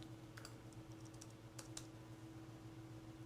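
Light, scattered keystrokes tap on a computer keyboard in a few short clusters, faint and close over a steady low hum of the room.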